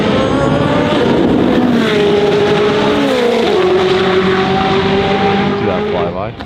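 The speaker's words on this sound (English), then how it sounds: "once they warm the Jesko attack up, they're gonna come flying by" A Koenigsegg Jesko Attack supercar rushes past on track, its engine note loud and sustained, rising and falling in pitch as it sweeps by, with a brief whine near the end.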